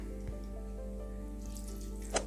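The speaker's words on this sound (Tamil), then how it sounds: "கொஞ்சமாக தண்ணி ஊற்றிக்கோங்க, நிறையா வேணாம்." Water poured into a pan of broad beans for a stir fry gives a steady, close rush, with a faint low hum beneath and a brief splash near the end.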